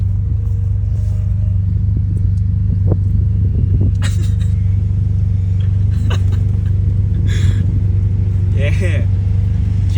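A Mazda RX-7 with HKS modifications drives on the road, its engine a loud, steady low rumble heard from inside the car, with people talking now and then over it.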